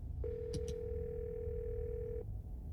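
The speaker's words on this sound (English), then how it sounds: "You hear something drop violently on the other end, then a dial tone." A steady telephone dial tone sounds for about two seconds in the video game Scarlet Hollow, following a brief clatter of something dropping on the other end of the line, over a low background hum.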